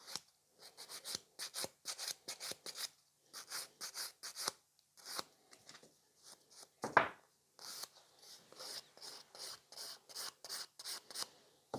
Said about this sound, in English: So now I need to prep my natural nail. And I'm swapping to 180 grit.